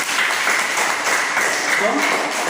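A classroom of students claps together in steady, dense applause, with a voice talking over it.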